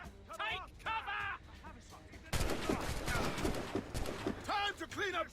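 Musket volleys crack and rattle in an Assassin's Creed Rogue battle, a dense burst of overlapping gunfire behind shouting voices, with shouted commands before and after.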